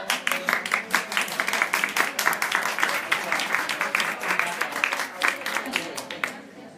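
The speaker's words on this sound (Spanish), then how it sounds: "Un aplauso, por favor." Applause from a small audience at a live cooking demonstration, with uneven, sparse claps in a steady patter for several seconds, fairly close and fading at the end, with some voices mixed in.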